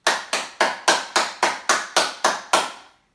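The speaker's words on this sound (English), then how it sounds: "And 10 more claps." Palms clapping together ten times at an even pace during a yoga class, crisp and close, the last clap ringing out briefly into quiet.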